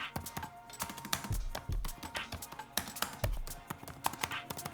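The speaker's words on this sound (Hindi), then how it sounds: "कीबोर्ड का टाइपिंग एक्सपीरियंस लिटरली बहुत ग्रेट है। जो की डिस्टेंस है वो भी मुझे बहुत सही लगा। टाइपिंग साउंड आपको सुनाते हैं।" Typing on the keyboard of a Samsung Galaxy Book 4 laptop, with a rapid, irregular run of soft close-up key clicks and occasional heavier thuds, likely from the spacebar, and no talking.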